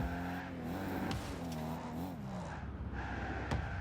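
Rocket League car engine revving steadily with shifting pitch, close and loud throughout, with a tire squeal and skid near the middle and a few sharp impact ticks.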